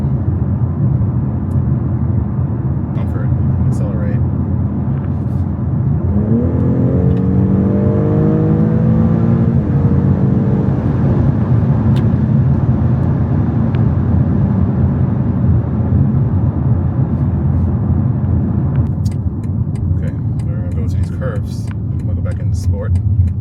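A BMW X3 M40i or Audi SQ5 SUV accelerates, heard from inside as a steady, droning cabin rumble. An engine note rises in the middle and then settles back to road noise, with a few sharp clicks near the end.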